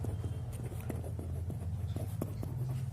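Hand-writing of the magnetic flux symbol phi B, a faint scratchy stroke sound with a few soft taps over a steady low hum, quiet and close.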